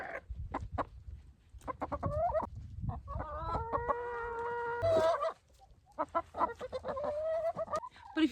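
Backyard chickens cluck and squawk close by in a busy flock, with short repeated clucks and a drawn-out, rising cackle in the middle, all fairly loud and continuous.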